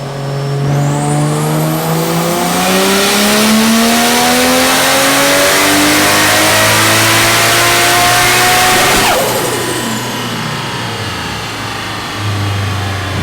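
A Toyota JZX100 engine with a big turbo setup revs hard on a dyno, climbing steadily in pitch for several seconds, then drops off and settles into a lower idle drone.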